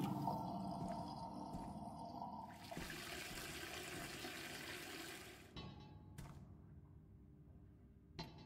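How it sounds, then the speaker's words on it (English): Water being emptied out in the dishwashing video game Dishwashing Simulator, a loud rushing, gurgling drain like a flush for about five seconds that cuts off, followed by a couple of faint clunks and drips. "We will empty out our water."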